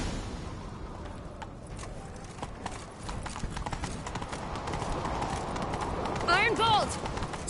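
Steady clip-clop of a horse galloping, with a horse's whinny near the end, amid The Witcher 3: Wild Hunt game ambience and a voice talking.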